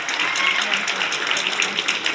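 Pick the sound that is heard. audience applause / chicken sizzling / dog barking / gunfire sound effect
audience applause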